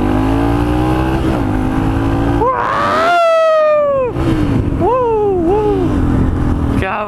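A motorbike engine revs hard with a raspy exhaust, pitch climbing and dropping in repeated throttle blips, loud and close throughout.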